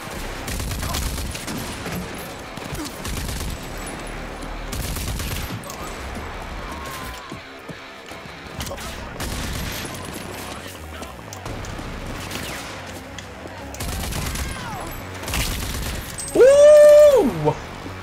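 Scattered volleys of gunfire crackle in the video game RAGE 2, irregular bursts mixed with game effects and a loud whirring sweep near the end.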